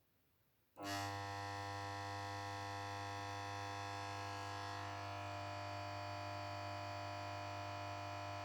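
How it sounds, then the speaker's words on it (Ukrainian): A transformer is switched on: after a quiet moment, a sudden onset gives way to a loud, steady electrical hum that stays constant to the end. "Включаємо конденсатор. 45 і включаємо трансформатор."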